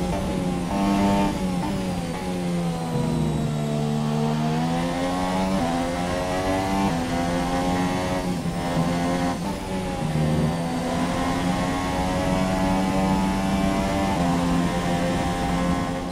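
F1 race cars from the F1 2017 video game battle wheel to wheel with Carlos Sainz, high-revving engines whining loudly and continuously, pitches rising and dropping through gear changes, with no talking.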